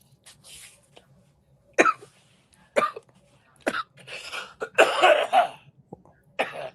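Several harsh, separate coughs from one nearby person after a large dab hit, spaced by quiet gaps, ending in a longer fit of hacking.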